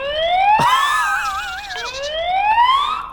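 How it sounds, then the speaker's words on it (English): A SwitchBot security camera's built-in siren blares at full volume, a loud electronic wail with rising sweeps and a warbling middle section, sounding alone and close. "one thing I haven't actually covered yet is its loud siren, which you can adjust the volume on"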